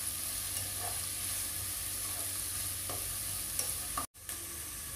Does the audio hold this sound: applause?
no